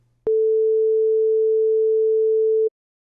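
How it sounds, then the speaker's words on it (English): A pure sine wave tone from a synthesizer oscillator sounds alone, a single steady clean pitch that starts abruptly, holds for about two and a half seconds, then cuts off. "this is what a sine wave sounds like all by itself"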